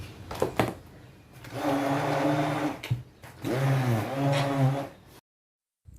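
A countertop blender whirs through a frozen mango shake in two long, steady bursts with a short pause between them, loud and close, before cutting off to silence near the end.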